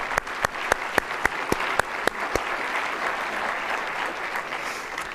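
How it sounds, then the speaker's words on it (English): Audience applause at a United Way annual meeting: a crowd claps steadily and fairly loudly, with a few sharp, distinct claps standing out early before the clapping settles into an even wash that fades slightly toward the end. "So let's give them a round of applause as well."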